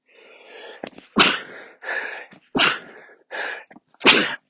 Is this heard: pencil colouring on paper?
no